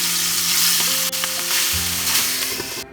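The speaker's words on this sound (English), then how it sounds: "Let me fry other fish" Rohu fish pieces fry in hot oil in a pan, giving a steady loud sizzle and crackle with a few soft stirring or scraping touches. Faint tonal hums run underneath.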